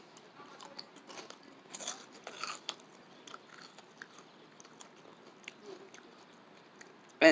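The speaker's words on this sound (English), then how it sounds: "And it has a loud crunch." Nacho cheese Bugles corn chips crunched between the teeth, a run of faint, close, irregular bites and chews, with a few brighter crunches in the first half and a sharp louder snap at the very end, no talking.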